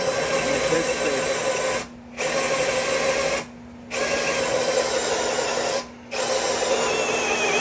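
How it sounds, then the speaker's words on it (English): A power drill whines loudly in long bursts while drilling a hole for a trailer hitch installation on a car, stopping briefly three times before starting up again, with a steady mechanical hum. "when you're drilling a hole"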